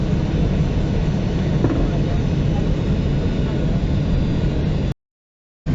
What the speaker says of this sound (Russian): Приземление в аэропорт Каира.